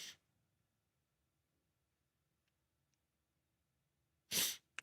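A single loud sneeze bursts out near the end after a few seconds of near silence, close to the microphone during a casual live stream.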